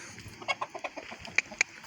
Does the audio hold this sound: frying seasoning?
no